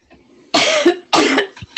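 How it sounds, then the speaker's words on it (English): Two harsh coughs come close together, loud and close, with a brief breath in between. "I have a cold and I can't stop coughing"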